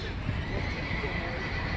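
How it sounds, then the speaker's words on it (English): A horse whinnies among the animal barns at the Fulton County Fair, with faint hoof clops and people talking nearby amid a busy fairground hum. "More horsies, yay."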